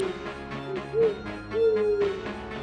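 A cartoon owl with fiery eyes hoots in an animated fairy tale, a few drawn-out tonal calls rising over soft background music, moderately loud and close.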